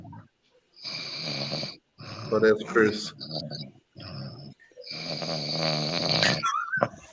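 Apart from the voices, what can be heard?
person snoring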